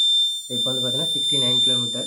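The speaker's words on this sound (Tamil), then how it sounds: "நமக்கு இப்போ பீப் சவுண்ட் கேட்டிருக்கு" The buzzer of a student-built speed detection system with an LCD display sounds a thin, steady high beep that runs continuously beneath someone speaking close by.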